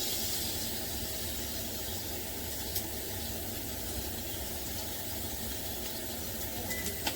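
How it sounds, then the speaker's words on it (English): Steaks searing in a hot pan after coming out of the oven for a reverse sear, a steady broadband sizzle and hiss holding at an even level throughout, with a few faint clicks on top and no talking. "about 45 seconds to a minute on each side to sear"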